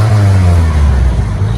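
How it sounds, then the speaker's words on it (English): Old, battered, broken-down car with its engine running, a steady low rumble that idles roughly and holds throughout. "Despite all this, the car starts."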